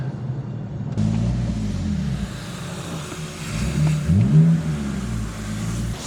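A BMW E46 330ci engine with a DriftShop exhaust hums steadily from inside the car while driving, with a brief rise in revs midway and constant road rumble.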